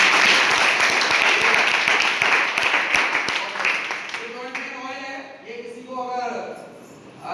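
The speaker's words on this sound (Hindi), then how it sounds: "ताली बजाइए" An audience claps at a health-product meeting, a steady burst of applause that fades as a voice takes over, talking on his own near the mic.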